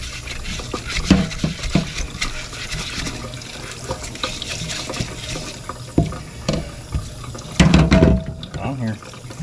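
Running tap water during rinsing, a steady splashing flow with clinks and knocks, and a person talking over it.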